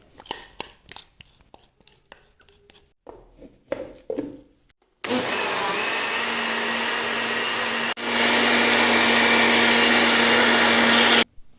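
Melted chocolate being blended into a chickpea mixture: a few scattered taps and scrapes lead into a loud, steady blender whir that runs without a break, its pitch shifting slightly partway through, with no voices.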